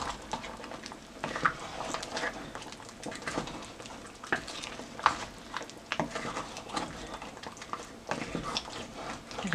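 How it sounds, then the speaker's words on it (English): Fish being stirred into a pot of slimy okra sauce produces soft, wet, irregular squelches and light utensil taps against the pot, close and fairly quiet. "Time for me to start adding in my fish because my okra is ready. And just mix that in."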